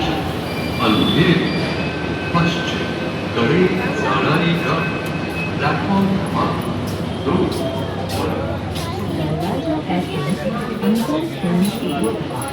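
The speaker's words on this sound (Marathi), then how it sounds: "अंधेरी पश्चिम के लिए ट्रेन प्लॅटफॉर्म क्रमांक दो पर प्रवेश करने वाले हैं" A Mumbai train bound for Andheri West rumbles into platform two with a steady roar, high metallic wheel squeal and brake hiss, while a crowd murmurs in the background.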